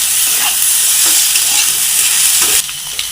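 Fried potatoes with salt and spices being stirred in a pan on the way to chowmein, a loud, dense sizzle with repeated spatula scrapes, which drops suddenly and quiets near the end.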